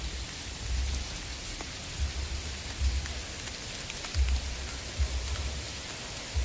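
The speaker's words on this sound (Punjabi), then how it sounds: "ਮੀਂਹ ਤੇ ਪੈ ਰਿਹਾ" Steady rain pours over the city of Ludhiana, flooding the streets, with a continuous, even hiss of drops on surfaces and soft low rumbles, all close and unbroken, with no voices.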